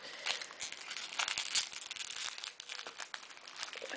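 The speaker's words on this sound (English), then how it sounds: "I'll just cut in here, that'll be easier." Scissors snip into the plastic wrapper of a Magic: The Gathering card pack, with close, crisp crinkling and short cutting crackles in an irregular run, fairly quiet and with no talk.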